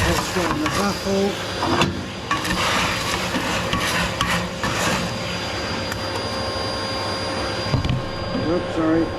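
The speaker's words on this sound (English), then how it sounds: "Vacuum off what's got in the baffle." Vacuum cleaner sucking debris out of the baffle of a Norreskoven MK2 wood stove during stripping and cleaning, a loud continuous rushing whoosh with scraping knocks as the nozzle moves, and a voice talking over it.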